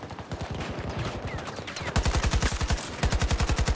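Rapid automatic fire from an AK-24 rifle in Battlefield rattles off in fast, loud bursts of sharp, evenly spaced shots. The rounds hammer on continuously, with a louder, punchier stretch in the second half.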